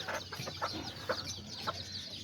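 An Azteca hen with her four- or five-day-old chicks gives a steady series of soft, low clucks, close by, with faint background hiss and no talking.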